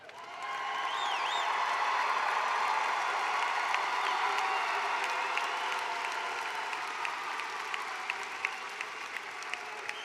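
Steady sustained applause from a large audience honoring graduates at a spring university commencement ceremony, a dense wash of clapping with faint whoops and cheers, continuous throughout and without speech.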